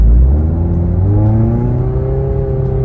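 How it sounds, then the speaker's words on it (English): A Scion tC engine with a slipping automatic transmission revs up steadily, a loud close drone climbing in pitch without shifting, heard alone. "It wasn't shifting gears, which I'm gonna play right here. My RPMs is rising and my speed is not increasing."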